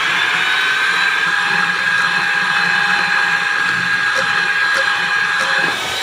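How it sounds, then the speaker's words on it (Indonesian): An electric mixer runs at high speed, beating sugar and eggs for a batik roll sponge cake, giving a steady, loud whirring drone that holds without a break throughout. "gula dan telurnya ini dimixer dengan kecepatan tinggi"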